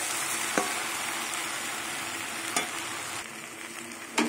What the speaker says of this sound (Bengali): এবার সোয়াবিন দিয়ে দেবো, ভাজা সোয়াবিনগুলো।